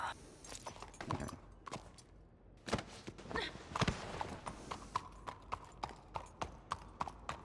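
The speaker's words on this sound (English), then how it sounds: "Why the horse doesn't want to run?" Hooves of a horse in a roleplay video game clop along at a walking pace, a steady run of distinct close hoofbeats with slight background ambience and no talking.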